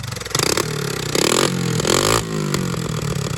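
A 1982 Honda Big Red three-wheeler idling and revving through a loud, leaky muffler, a close, harsh engine note that rises and falls in bursts.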